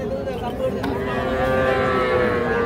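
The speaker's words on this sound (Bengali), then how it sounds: "শাহিওয়াল ষাঁড় বাচ্চা।" A Sahiwal bull calf at a village cattle market lets out a loud, drawn-out moo close by, with faint crowd murmur in the background.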